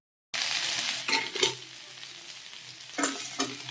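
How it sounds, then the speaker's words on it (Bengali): Vegetables fry in a pan for daliya, a continuous close sizzle broken by several bursts of spatula stirring and scraping. "এদিকে সবজিগুলো ভাজা হয়ে গেছে"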